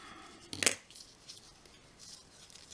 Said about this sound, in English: Just turn around to the back side and cut it